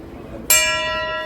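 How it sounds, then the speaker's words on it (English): A ship's bell aboard the Nao Victoria, a replica sailing ship moored in Ramsgate Harbour, struck once with a bright metallic clang that rings on and slowly decays. "There's a bell."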